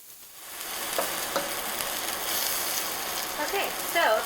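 Meat sizzling in a stir-fry pan, a dense, steady, close hiss of frying that carries throughout, with faint stirring clatter and a trace of background voice near the end.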